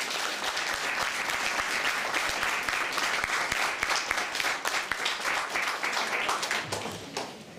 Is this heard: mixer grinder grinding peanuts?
no